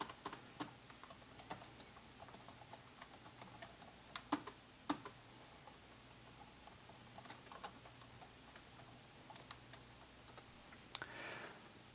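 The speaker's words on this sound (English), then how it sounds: "Let's type in a small program here." Program being typed on a computer keyboard, a quiet, steady patter of key clicks with occasional sharper strokes, close but faint, with no talking.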